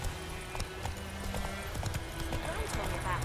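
Hooves of a horse galloping in The Witcher 3 clip-clop rapidly and evenly beneath a voice and game sound, the footfalls quiet but steady throughout.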